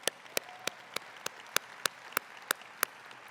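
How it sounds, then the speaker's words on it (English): A few scattered, isolated claps ring out at a housing conference plenary session, roughly ten sharp, evenly spaced hand claps, fairly faint against a quiet room. "Please give another big round of applause to the Attorney General."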